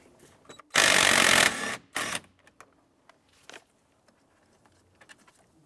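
A 21mm socket wrench loosens the steering wheel nut on a 2000-2006 Chevrolet Tahoe, giving a loud, close burst of ratcheting and metal clatter lasting about a second, then a shorter burst and a few faint clicks.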